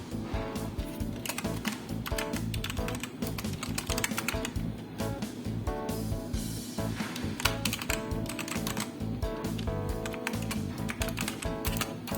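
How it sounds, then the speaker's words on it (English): Continuous fast typing on a CocoSport Virgo K21 keyboard with red switches, dense overlapping keystrokes, close and fairly loud, with no voices. "Let's see how the red switches sound."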